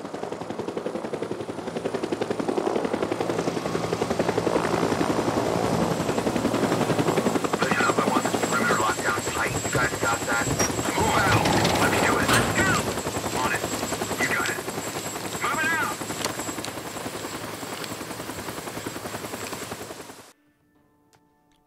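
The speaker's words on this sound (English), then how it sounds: "Why is there a helicopter there?" A helicopter in the Days Gone zombie-apocalypse video game thunders with a loud, sustained rotor drone for about twenty seconds, with bursts of gunfire in the middle, before cutting off abruptly.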